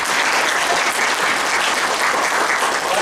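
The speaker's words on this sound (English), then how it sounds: "please give yourself a big round of applause" A large audience at an inaugural and orientation ceremony for a management institute gives a big round of applause, dense continuous clapping at full strength that fills the whole stretch without any voices.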